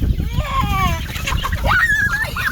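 Chickens cluck and squawk close by at a chicken farm in Kampot Province, with varied calls overlapping a busy background of farm noise.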